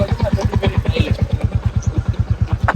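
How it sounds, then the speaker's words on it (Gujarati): A single-cylinder Royal Enfield Hunter 350 motorcycle engine thumps in a fast, even rhythm close by, loud and steady throughout, with faint wind and background noise, riding through the Gir forest. "આજે જે આપણે રાઈડમાં બાઇક ચલાવીએ છીએ એ છે હન્ટર 350"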